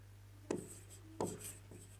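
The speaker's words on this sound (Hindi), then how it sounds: "तो अपन दिया हुआ वगैरह लिखते हैं" Pen strokes on paper as given data for a class 10 circle geometry problem is written out: two distinct scratchy bursts and a fainter third, close and quiet over a steady low hum, with no talk.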